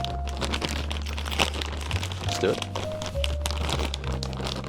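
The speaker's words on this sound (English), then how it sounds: "we should probably form our little foil pouch of wood chips." Aluminum foil crinkles and crumples steadily throughout, close up, as it is formed into a pouch for wood chips, with a person talking briefly over the rustling.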